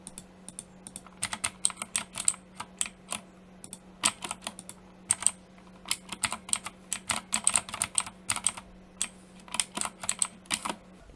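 Rapid, uneven bursts of crisp clacking keystrokes on an Ajazz AK33 mechanical keyboard, close and alone over a faint steady hum.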